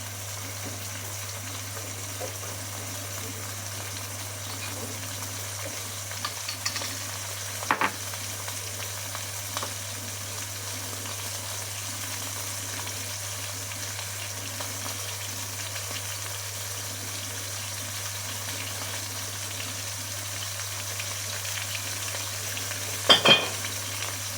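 Veal paupiettes with tomato sizzle steadily in a pan, a continuous soft frying hiss over a low hum, with a couple of brief clinks near the middle and the end; no one speaks.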